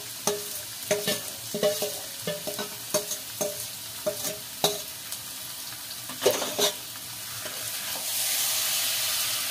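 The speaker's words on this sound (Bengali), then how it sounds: "এখন দিয়ে দেবো আমি চিকেনগুলো।" Marinated, spice-coated chicken pieces hit a hot pan, giving a run of sharp clattering stirs over a steady frying hiss that swells into a louder continuous sizzle near the end.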